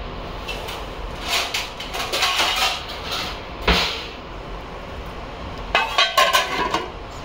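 A metal lid clinks and clatters onto a cooking pot of paneer tikka masala, several light knocks and scrapes in a few bursts against a quiet kitchen background, with no talking.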